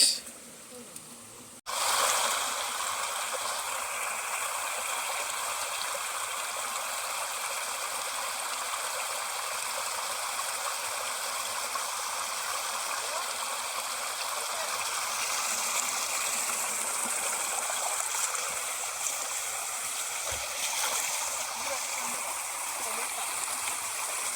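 A Konkan stream at night, its water rushing and gushing in a steady close roar that starts abruptly after a short quiet moment and continues unbroken.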